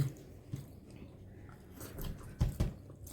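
Soft wet chewing of a mouthful of pulao mixed with meat curry and raita, close to the ear, with a few squishy bites and two louder thumps near the end.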